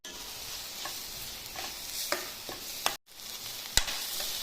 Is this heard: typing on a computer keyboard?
no